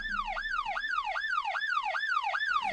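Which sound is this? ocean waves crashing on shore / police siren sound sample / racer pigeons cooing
police siren sound sample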